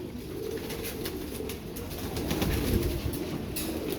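Pigeons coo softly and continuously in a loft, a low steady murmur of several birds layered together with no talking.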